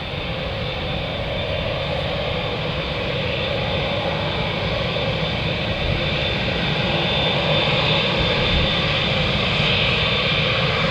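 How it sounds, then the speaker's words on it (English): A five-year-old Juneyao Air Boeing 787-9 Dreamliner in China livery, bound for Shanghai, rolls onto the runway at Manchester Airport, its jet engines making a loud, continuous roar that holds steady throughout. "making its way onto the runway now is a Juneyao Air 7879 Dreamliner going to Shanghai"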